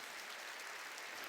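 A church congregation claps together during a sermon, a dense, steady patter of many hands filling the room evenly with no voices rising above it.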